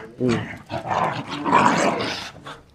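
Dogs bark and growl close by in a yard with several dogs, someone speaking over the rough, overlapping bursts of noise.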